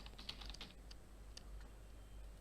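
Quick, light keystrokes on a computer keyboard as an email server address is typed, a close cluster of clicks at the start, then a few scattered taps over a soft background hum.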